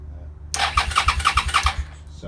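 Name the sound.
Suzuki SV650 motorcycle starter motor cranking engine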